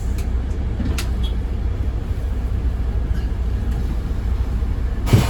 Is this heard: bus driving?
yes